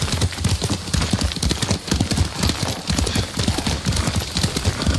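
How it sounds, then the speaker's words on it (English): Horse hooves clip-clop at a steady riding gait in the Ghost of Tsushima video game, loud and close, a continuous rhythmic pounding with no talk over it. "Lord Sakai taught me to ride a horse"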